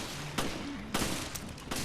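Handgun shots in Resident Evil Revelations fire as four sharp, loud reports at uneven intervals over a constant background drone, with no talk.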